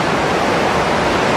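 A small sunlit waterfall gives a steady, dense rush of falling water, loud and close, with no breaks and no voices.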